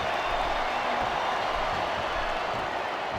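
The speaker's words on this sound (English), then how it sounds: "I think these superstars are getting some feedback from the crowd, JR." A wrestling arena crowd in the SmackDown vs Raw 2007 video game, a constant dense roar of cheering and murmuring with no breaks.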